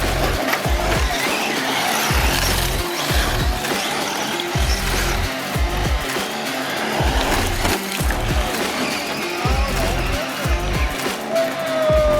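Several RC cars drive and jump on a track, giving loud, rapid bursts of motor whine and rattling impacts that repeat across the stretch, with voices at times.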